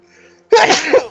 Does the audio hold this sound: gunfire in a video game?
no